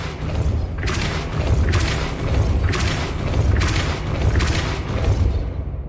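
Depulso spell impacts in the Hogwarts Legacy video game land as a run of about five heavy booming thumps in a loose rhythm over a low rumbling bed, loud and close, with no talking.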